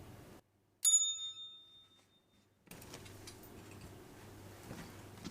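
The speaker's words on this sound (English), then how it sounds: "I'm just going to ring the bell." A single small bell struck once before a tarot card reading, ringing clear and bright then decaying over about two seconds in a quiet room, followed by soft rustling and handling noise.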